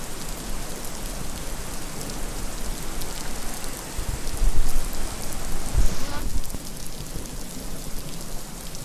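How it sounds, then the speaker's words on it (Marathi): Heavy, continuous rain falls in Sinnar, Nashik, as a loud steady wash of drops on surfaces, swelling briefly before easing back. "गेल्या 4 दिवसांपासून सिन्नरमध्ये सातत्यानं पाऊस पडतोय"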